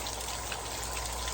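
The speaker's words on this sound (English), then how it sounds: "It's raining." Rain falls at a lakeside during a fishing outing: a faint, steady patter and trickle of drops, brief and continuous, with no voices.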